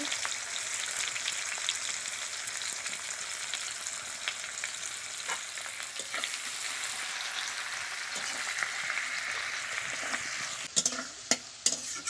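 Chopped onions frying in oil in a pan over a wood fire, a constant quiet sizzle with occasional stirring scrapes and a few sharper clanks near the end, no one speaking.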